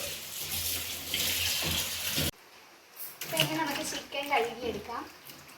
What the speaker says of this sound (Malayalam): നല്ല വൃത്തിക്ക് കഴുകിയെടുക്കണം